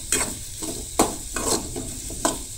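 Onion fries lightly in a pan under a constant hiss, with rhythmic spatula scrapes and taps recurring roughly every half second, close and clear.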